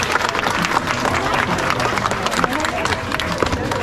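A crowd in the stands of an ocean-park dolphin show applauds steadily, a dense wash of clapping with some crowd murmur throughout.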